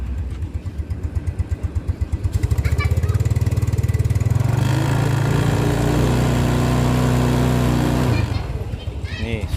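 Nearby Yamaha Mio 2010 scooter engine putters at idle, then revs up into a loud sustained whine for several seconds before dropping back toward idle.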